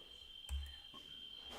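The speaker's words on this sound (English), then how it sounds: "No, those are not birds. Those are cicadas." Cicadas buzz outside a window, a faint, steady high-pitched drone carrying through the whole short stretch, with a couple of soft low thumps nearby.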